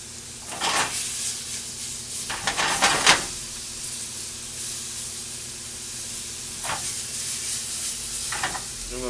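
Sliced bananas hit hot oil in a pan with a couple of sharp sizzling bursts, then a steady low crackle of frying continues underneath, close and fairly loud.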